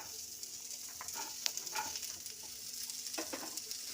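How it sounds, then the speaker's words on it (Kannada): Bottle gourd frying in hot oil in a heated pan gives a soft, steady sizzle with scattered crackles and a few light stirring taps, faint and without any voices. "ಇದಕ್ಕೆ ನಾನು ಇವಾಗ ಸೋರೆಕಾಯಿನ ಹಾಕ್ಕೊಂಡ್ಬಿಡ್ತೇನೆ."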